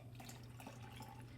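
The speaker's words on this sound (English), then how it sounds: "So I'm going to add 200 grams of water" Water runs steadily into a container sitting on a kitchen scale while a sourdough starter is being mixed, a continuous close trickle with no voices.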